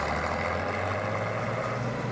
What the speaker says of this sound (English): That sounds like an engine that's seen some life.